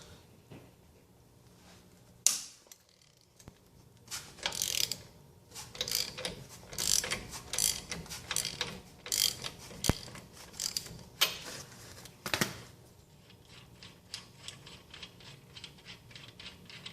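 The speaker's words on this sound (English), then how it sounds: "you should just have to get a 17mm socket on the nut" A ratchet with a 17mm socket loosens the rear shock bolt nut on a 2013 Toyota Tacoma, giving a sharp initial crack followed by bursts of fast, close metallic clicking that come and go in uneven runs.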